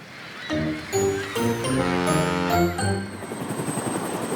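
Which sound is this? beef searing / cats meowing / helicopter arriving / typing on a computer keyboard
helicopter arriving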